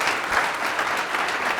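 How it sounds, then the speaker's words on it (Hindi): A church congregation claps together in a sustained burst of applause, dense and even for its short length. "जोर से ताली बजा सकते हो प्रभु के लिए"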